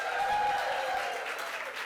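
A crowd at a Women's Equality Day announcement by the New York governor claps in steady, dense applause that stays loud throughout the short stretch, with no voices standing out.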